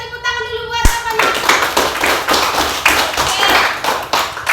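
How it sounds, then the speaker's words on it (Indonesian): Children in a Grade 4 classroom clap together in a dense burst of hand claps, loud and close, with some voices mixed in. "Coba tepuk tangan dulu"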